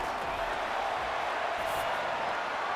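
A football stadium crowd during a Vikings vs. Falcons game gives a steady, dense roar that holds strong throughout, with no single voice standing out.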